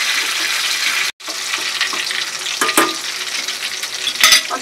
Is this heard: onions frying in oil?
yes